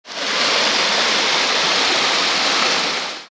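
Floodwater pours steadily into the basement of a multi-storey building surrounded by water after heavy rain in Balkhash, a loud continuous rushing with no pauses and no voices.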